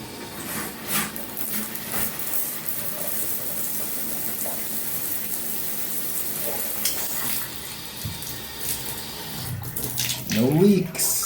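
Water runs from a bathtub spout while a thumb presses over it, giving a steady gushing spray that changes as the flow is blocked. Handling noises and knocks come up near the end.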